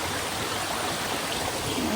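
A mountain stream flows along a trekking trail on Agasthiyarkoodam, a continuous, fairly loud rush of water with no one speaking.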